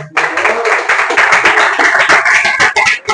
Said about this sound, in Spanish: ¿No le da un aplauso?